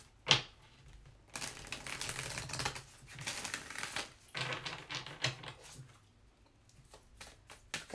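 Tarot cards are shuffled in quick riffling bursts of papery flutter, close and fairly soft, with pauses between rounds and no voices.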